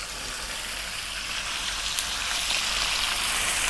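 Small pieces of lamb sizzle steadily in hot spiced oil in a curry pan, a dense, even frying hiss that stays loud and close throughout with no voices.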